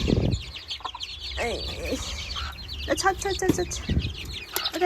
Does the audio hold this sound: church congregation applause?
no